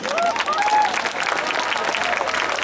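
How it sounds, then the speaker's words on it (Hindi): Applause from students at a university centenary celebration in Lucknow; brisk, steady clapping at moderate volume, with voices faintly mixed in. "एक बहुत जोर सी तालियों की गूंज"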